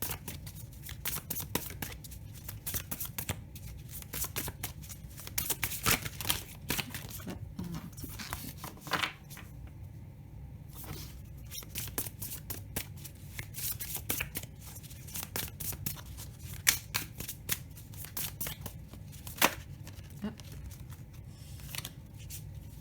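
Tarot cards are shuffled by hand in a quiet room: continuous close riffling, flapping and sliding bursts with small pauses, moderately loud throughout.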